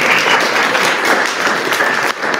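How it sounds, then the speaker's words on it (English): A church congregation gives a steady round of applause, dense continuous clapping that fills the room at even strength for a couple of seconds with no voices over it. "let's give Susie another round of applause here."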